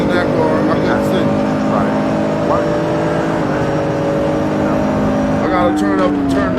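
Race car engine in the Assetto Corsa racing game, a continuous loud drone with shifting pitch that drops at one gear change, with a voice talking over it.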